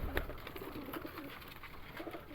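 A Teddy pigeon coos softly, a few low rounded calls rising faintly over quiet background noise, with no talking.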